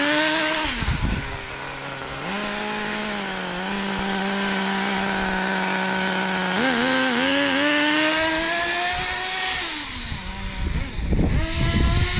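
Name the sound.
nitro RC car engine running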